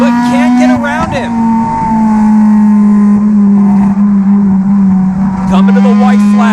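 Race cars in a NASCAR Division III enduro, engines droning loudly with a steady high pitch as cars pass close, the whine bending sharply as they go by, while a voice talks over the racing.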